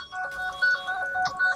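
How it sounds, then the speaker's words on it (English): A phone ringtone plays a short, old-fashioned melodic tune of clear repeating tones, close and fairly loud, with no talk over it. "Ringtones are so amazing."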